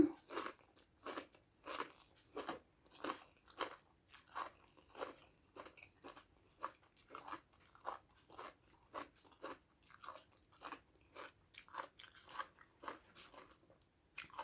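Crunchy chewing of baked shrimp eaten with spicy papaya salad, close and quiet, with a steady run of sharp bites and crackles repeating about once a second, alone without talk.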